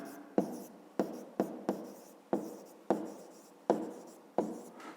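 Pen writing numbers on paper for a fifth-grade math exercise, eight or so short scratchy strokes in an uneven rhythm, close and alone.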